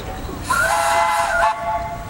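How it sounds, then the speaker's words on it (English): A big steam traction engine, rated 40 boiler size and 120 horsepower, gives one loud whistle blast of about a second at an outdoor threshers' steam show, with crowd ambience around it. "All right, Mr. Graham, you got a whistle."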